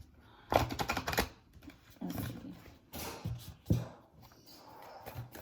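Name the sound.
shuffling tarot cards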